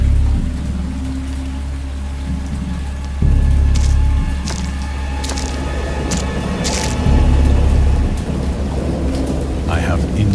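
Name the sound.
thunderstorm with rain in the video game Dagon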